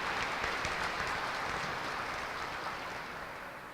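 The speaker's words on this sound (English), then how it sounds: "I want you to take note who got applause here today" Steady applause from a crowd at a Mental Health Day event at a state Capitol, dense and sustained clapping throughout, tapering slightly toward the end.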